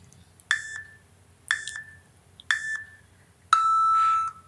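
Three short electronic beeps spaced about a second apart, followed by one longer, lower beep, clear and close against a quiet background.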